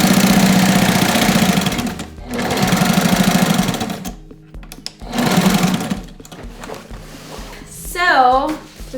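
A sewing machine top stitches a tote bag made from recycled sail cloth in three loud, steady runs of whirring with short pauses, and a voice speaks briefly near the end.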